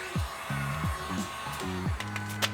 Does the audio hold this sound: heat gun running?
yes